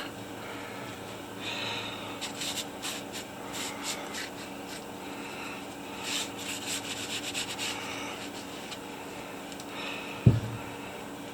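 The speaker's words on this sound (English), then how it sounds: "scrub this rock a little bit, try to hide some of those fine tool marks" Water-wetted rock around a fossil needle fish being scrubbed in uneven scratchy bursts, close and fairly quiet, ending with a single sharp knock.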